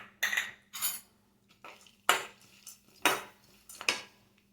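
A spoon stirs roasted gram dal and grated coconut in ghee in a pan, giving about six separate scraping, clinking strokes with short pauses between them. The strokes are close and soft, with no talk over them.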